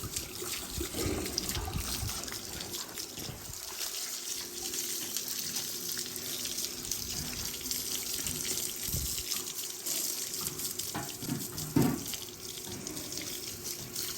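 Steady running water splashes and trickles as a buffalo is bathed outdoors, a continuous close wash with a few louder splashes and no talk.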